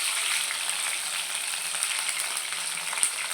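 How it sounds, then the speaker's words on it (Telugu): Dried shrimp sizzling steadily in hot oil in a pan, a dense, continuous crackling hiss with occasional sharper pops, close and fairly loud throughout. "ఆయిల్ బాగా వేడెక్కిన తర్వాత అలా ఎండ్రాయిలు వేసుకోవాలి."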